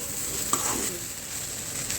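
Curry leaves hit hot oil while cooking sura puttu, a shredded shark dish, giving a steady, fairly close sizzle with a brief crackling burst partway through.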